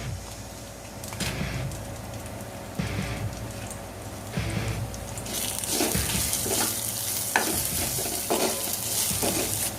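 Tamarind, onion, tomato and garlic fry in a pan with red chillies and curry leaves for a black gram chutney, a steady close sizzle broken by repeated stirring scrapes that grow busier and louder later on.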